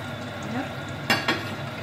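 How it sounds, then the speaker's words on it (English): Pancake frying in oil in a pan, a steady low sizzle throughout with two brief sharp clatters near the end, close by and moderately loud. "This is my pancake, it's boiling up."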